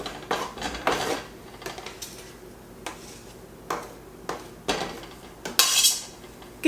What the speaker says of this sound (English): You just put it in the pot.